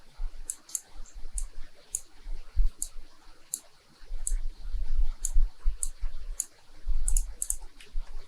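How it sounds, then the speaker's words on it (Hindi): Computer mouse clicks while working in CorelDRAW, a run of light, crisp, evenly spaced taps over low background hum, with no speech. "यहाँ पे फिर से एक पॉइंट क्लिक करती हूँ"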